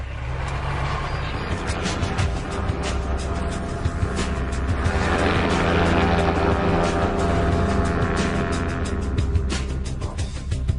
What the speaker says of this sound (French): L'équipe décide donc de survoler la région à basse altitude.